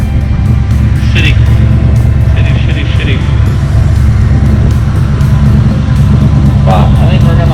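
A 1971 Chevy truck drives through a snowstorm, its engine and road roar loud and steady inside the cab, with faint clicks and squeaks over the drone.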